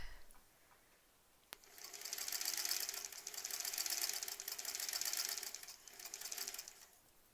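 A sewing machine stitches down the open seams of a small quilt block. After a quiet start and a sharp click, a faint, steady mechanical whir runs continuously, its pitch swelling and easing with the sewing speed.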